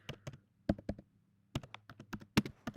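Search words typed on a computer keyboard, a run of close, crisp key taps in quick bursts with a short pause midway.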